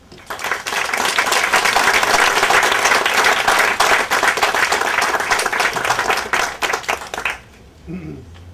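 Loud, sustained audience applause from a church dedication crowd welcoming Cardinal Sean, steady dense clapping for about seven seconds before it fades out.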